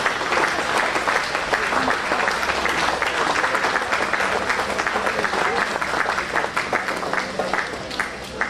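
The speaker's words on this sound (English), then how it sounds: "So please give a round of applause to well-deserved Grand Marshal" A crowd at a county fair awards night gives a sustained round of applause for the Grand Marshal couple, dense steady clapping filling the room at an even level throughout with a faint murmur of voices beneath.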